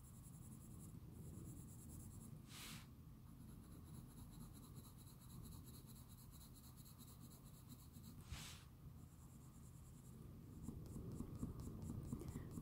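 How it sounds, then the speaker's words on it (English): A Polychromos colored pencil is cross-hatching on easily saturated drawing paper, making a soft, steady, close-up scratching with a few brief pauses between strokes. "a little bit of cross hatching helps to get more pigment on the paper"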